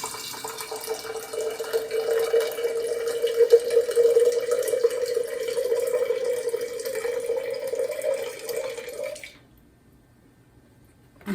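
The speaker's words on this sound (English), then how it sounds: "Then I'm just gonna put water in it." Water from a filter pours steadily into a glass sprouting jar holding broccoli seeds, a continuous close trickling fill for about nine seconds before stopping abruptly into silence.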